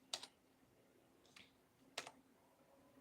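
Soft computer keyboard keystrokes come in a few sparse, isolated clicks, very quiet and close in an otherwise hushed room.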